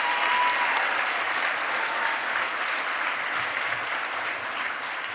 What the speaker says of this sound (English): Give Doug a round of applause.